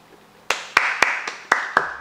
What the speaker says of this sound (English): Round of applause, chat